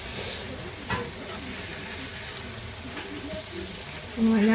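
Chicken escalopes sizzling in a frying pan, a continuous close crackle with occasional utensil taps, and a brief spoken word near the end.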